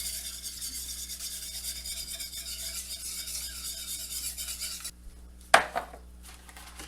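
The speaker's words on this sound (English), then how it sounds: "Whisk that all in there." A whisk stirs grated Parmesan cheese into homemade Alfredo sauce in a pot, a steady rapid scraping and rubbing for several seconds, then stopping with one sharp metallic clink.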